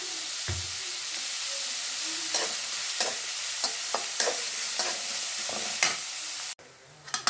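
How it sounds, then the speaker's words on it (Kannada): Sliced onions with a pinch of salt fry in a hot pan for a pepper chicken gravy, giving a steady close sizzle broken by repeated scraping stirs and brief clatters, with no talking. "ಈರುಳ್ಳಿ ಸ್ವಲ್ಪ ಬೇಗ ಫ್ರೈ ಆಗಬೇಕಂದ್ರೆ ಸ್ವಲ್ಪ ಉಪ್ಪು ಹಾಕ್ಬಿಡೋಣ ಈರುಳ್ಳಿ ಬೇಗನೆ ಫ್ರೈ ಆಗುತ್ತೆ"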